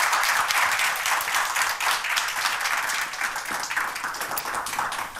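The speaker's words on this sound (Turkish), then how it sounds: "alkışla alıyorum lütfen" Sustained applause from a television studio audience greeting an association president as a guest on a Turkish TV talk show, dense steady clapping at close range throughout.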